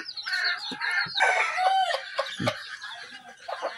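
Desi chickens cluck and crow together in a dense, continuous flock chorus, close and fairly loud, with overlapping calls and a couple of sharper crowing bursts.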